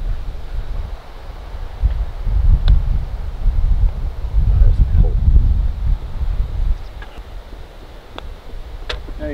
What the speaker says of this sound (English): Wind's coming hard off the left.